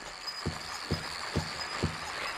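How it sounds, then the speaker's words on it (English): Creeper enemy from the Silent Hill 2 video game making a steady, evenly spaced series of four sharp chirping clicks over a constant hissing, insect-like drone. "This noise is from the creepers"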